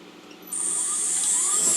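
A machine drills guide holes in an instrument part, with a high, steady whine that starts abruptly after a quiet moment and holds close and loud to the end.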